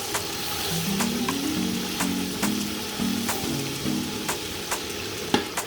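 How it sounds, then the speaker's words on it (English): Thieboudienne ingredients fry in a pot while being stirred, a steady close sizzle broken by regular scraping strokes of a utensil against the pot. "Stir it a little bit."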